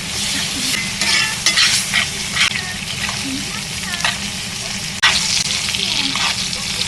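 A steak sizzles loudly in a hot pan as butter is spooned over it, with a steady crackling fry broken by repeated splashy scraping strokes, close and continuous.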